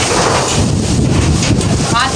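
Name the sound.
wind blowing outdoors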